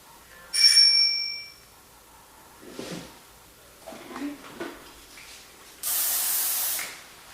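Hairspray sprayed onto a finished updo hairstyle: one steady aerosol hiss of about a second and a half, close and fairly loud, heard alone after a few soft handling rustles.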